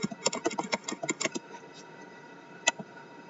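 Fingers tap out a quick run of clicky computer keyboard keystrokes, close and clear, then the pace trails off into a quiet pause broken by one last keypress.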